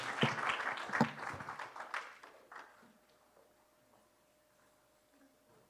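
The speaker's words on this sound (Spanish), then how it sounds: "Dele un fuerte aplauso al Señor" A short burst of clapping from a church congregation fades quickly, leaving a quiet room with faint scattered noises.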